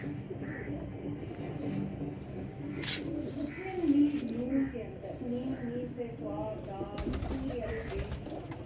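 Pigeons, including teddy pigeons, coo softly in low, rolling calls, close by, while people talk over them and a few clicks and rustles come through.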